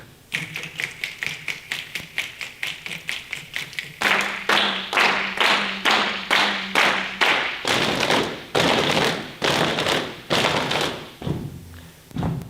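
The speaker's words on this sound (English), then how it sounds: "And clap. And tap." A group claps and taps together in a steady, even beat of sharp close hits, starting lighter and growing louder and fuller partway through, then slowing toward the end.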